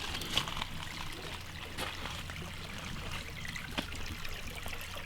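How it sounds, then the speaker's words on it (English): Water trickles steadily into a homemade koi pond on a farm, a soft continuous splashing stream heard close, with a few brief louder splashes. "It is a koi pond"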